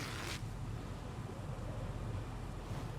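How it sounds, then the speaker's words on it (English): Wind blows steadily through a dark night scene in a survival video game, a constant low roar with gusty rustle and a brief hissing swell at the very start. "This wind is just one of the... it's kind of creepy. It's dark, it's windy."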